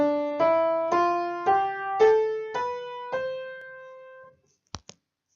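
A piano plays a slow run of single notes on the white keys, each ringing out and fading, climbing step by step from C, followed by two short clicks after silence.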